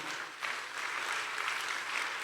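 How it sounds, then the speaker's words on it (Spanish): A church congregation claps together in a brief, even burst of applause, steady and fairly distant, with no voices over it. "Denle un aplauso al Señor."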